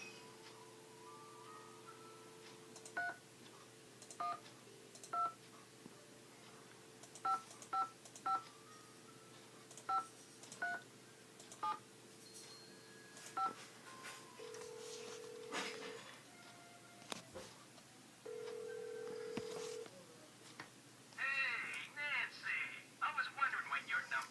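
Series of touch-tone dialing beeps from an in-game phone in the Nancy Drew mystery The White Wolf of Icicle Creek, short evenly spaced tones in bursts, followed by a steady ring tone and a voice talking at the end.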